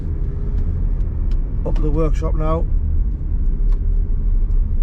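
A van cruises along the A1 with a steady low road-and-engine rumble throughout, and someone briefly talks over it partway through.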